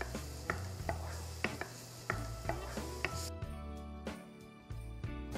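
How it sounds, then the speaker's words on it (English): Garlic sautéing in cooking oil for a lechon sauce, a steady sizzle broken by regular scraping stirs and light utensil knocks against the pan. "So let's saute some garlic first."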